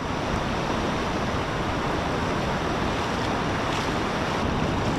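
Ocean surf breaks steadily on a beach with surf-fishing channels, a dense continuous wash of waves with wind rumbling across the microphone, close and fairly loud, no voices.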